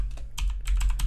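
A few quick keystrokes on a computer keyboard tap out a password over a low steady hum, with short clusters of clicks close to the microphone.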